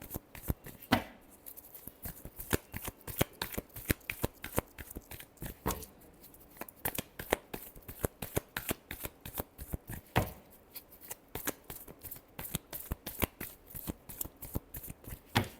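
Tarot cards are shuffled by hand in quick repeated riffles and snaps, a close, crisp rhythmic flutter continuing throughout with short pauses.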